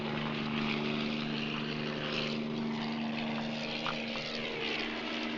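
A continuous droning helicopter engine with a steady low hum and rotor wash, loud and constant throughout with no talking.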